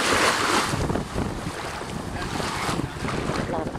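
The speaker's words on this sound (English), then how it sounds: "This is a little Craigcat we rented. Two-seater with the engine." A small rented two-seater Craigcat boat runs its engine on open water, the motor's drone nearly buried under strong wind buffeting the microphone and the wash of water, loud and steady throughout.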